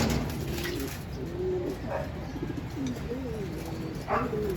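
Breeder racing pigeons cooing softly in a loft, several low rolling coos overlapping against a steady background hum, fairly close but quiet.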